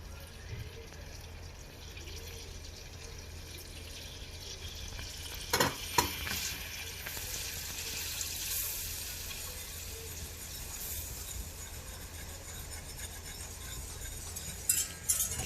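Flour is stirred into melted butter in a pan for baked mussels, giving a low continuous sizzle with scraping and a few clattering knocks against the pan, no talking.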